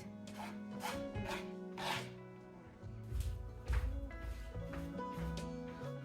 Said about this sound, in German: Und dann können wir mit der Karte so leicht drüber ziehen